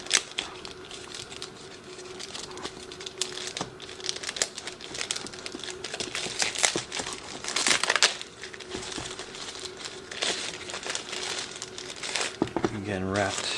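Plastic wrapping crinkles and rustles up close as a G11 Pro drone controller is unpacked, with irregular crackling bursts and handling noises throughout and a brief speaking voice near the end.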